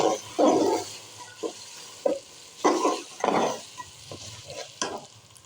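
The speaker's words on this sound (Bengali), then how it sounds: "এবার চাউলগুলোকে সুন্দরভাবে ভেজে নেব।" Washed polao rice is fried in spiced oil in a pot and stirred, giving a series of close scraping, rustling strokes over a soft sizzle, irregularly spaced and fairly loud.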